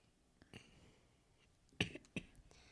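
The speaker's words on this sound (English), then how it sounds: "Sorry, I needed to cough." A couple of short, sharp coughs close by in a quiet room, a faint one first and two louder bursts near the end.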